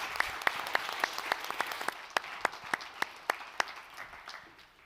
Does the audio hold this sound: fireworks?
no